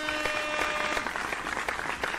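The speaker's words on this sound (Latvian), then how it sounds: "paldies Amandiņai vēlreiz ovācijas un aplausi" A small audience applauds in a brief, steady burst of close clapping that fills the whole moment, with faint voices in the background.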